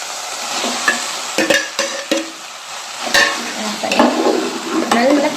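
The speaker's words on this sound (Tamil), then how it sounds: "ஒரு கிளறி விடுவோம் இது கூட மசாலாஸ்லாம் ஆட் பண்ண போகிறோம்" Okra gravy stirred in a frying pan, sautéed lady finger with onions sizzling while a spoon scrapes and knocks against the pan in irregular strokes, close and clear with no talking.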